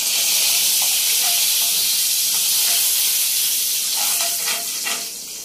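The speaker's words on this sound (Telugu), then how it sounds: "కరివేపాకు కూడా వేసుకుంటున్నాం" Curry leaves sizzle loudly in hot oil with garlic and cumin, a dense steady hiss with small crackles and pops close by that eases slightly at the end.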